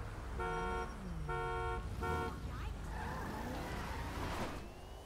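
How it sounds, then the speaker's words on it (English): Car horn honking in Grand Theft Auto V, sounding in three loud, close blasts over a rumbling vehicle engine, followed by a rising engine roar with voices faintly in the background. "third honk, you ready?"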